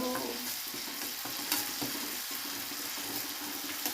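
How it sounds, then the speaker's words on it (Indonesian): Anchovy and peanut sambal stir-fried in a pan gives a steady, close sizzle and hiss with intermittent scraping stir strokes throughout, no voices present. "Ini udah siap, saatnya menumis. Nah, kita oseng-oseng dulu"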